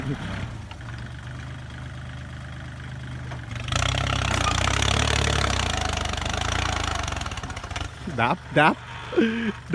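Kubota L3608 tractor engine rumbling steadily while plowing a rice field, its low drone swelling louder midway, with voices talking over it near the end.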